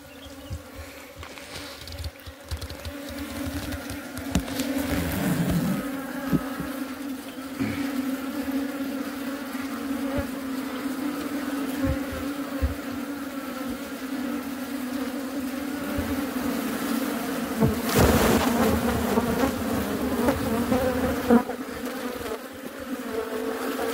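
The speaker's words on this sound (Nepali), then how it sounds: "ऱ्यान्डमली मौरी हालिरहेको छु यहाँ" Honeybees being put into a hive, their steady dense buzzing lasting throughout, close and continuous, with small swells and brief crackles of handling, and no talk.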